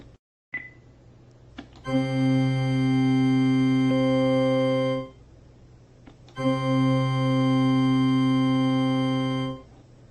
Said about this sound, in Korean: 그 다음에는 올간 소리를 들어보도록 하겠습니다.